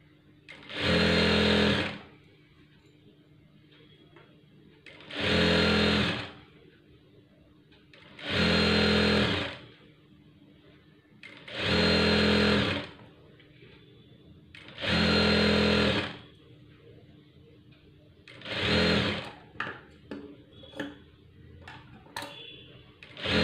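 Sewing machine stitching the neckline of a plain blouse, running in six loud bursts of about two seconds each with brief pauses between, and faint handling clicks near the end.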